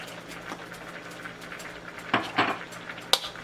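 A vegetable stir fry is stirred in a pan, a soft sizzle broken by a few sharp clinks and scrapes of the utensil against the metal near the end, with no talk.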